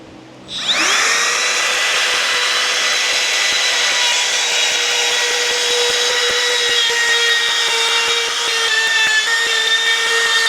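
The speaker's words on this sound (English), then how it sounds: "That's first cut, because you've got to cut into end grain." A power tool cuts steadily into the end grain of a black wattle workpiece, a loud continuous whine with a sustained tone that starts abruptly after a moment of quiet and runs unbroken to the end.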